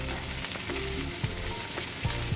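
Cabbage and capsicum sauté in a hot pan, giving off a close, continuous sizzle with a few soft scrapes of stirring.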